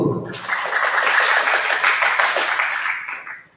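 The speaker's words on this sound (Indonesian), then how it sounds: "Tepuk tangan untuk Diko." Classroom applause from students, a dense burst of clapping that swells quickly, holds steady for about three seconds and then fades out.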